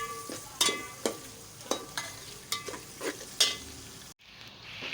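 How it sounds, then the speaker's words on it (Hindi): Cumin seeds, round chillies and chopped ginger and garlic are stirred in a pan with a quiet sizzle, about ten distinct spoon scrapes and knocks, ending abruptly in near silence. "अब इन सब चीज़ों को मिक्स करेंगे।"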